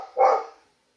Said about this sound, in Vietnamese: bọn chó mẹ này nó bảo vệ cho con là nó không thích cái điều ấy